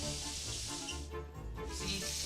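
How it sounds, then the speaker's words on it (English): Chicken fried venison sizzles in hot frying oil: a close, steady, crackling hiss that runs the whole time with no voices. "See, sizzling there"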